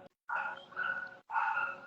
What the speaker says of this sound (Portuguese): A cachorrada dos vizinhos aí estão gritando.